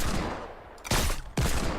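Gunfire in a shooter video game, two loud, sharp bursts of shots close by, separated by a short gap, over a noisy background.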